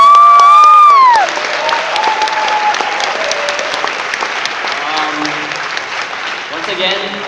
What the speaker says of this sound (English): Isa nga pong malaking round of applause